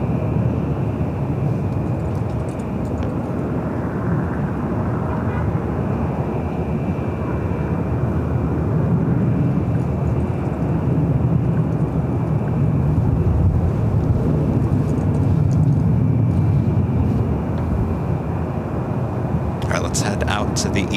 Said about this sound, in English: Air Canada Express Jazz Flight 574 coming in from Vancouver.